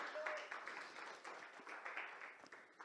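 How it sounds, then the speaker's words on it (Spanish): Church congregation clapping for the Lord during a Spanish-language service, a modest, fairly quiet patter of hands with a few voices mixed in, sustained without a clear peak. "Denle un aplauso al Señor si quiere, hermano"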